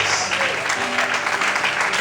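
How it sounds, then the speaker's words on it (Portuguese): A church congregation claps steadily through a brief stretch during an evening worship service, with music and voices underneath. "Tem que ser mais forte as palmas"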